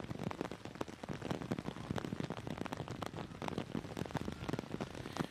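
Steady, dense rain patters and crackles without a break during an outdoor girls' under-15 soccer match between Panama and Canada, with no voices heard.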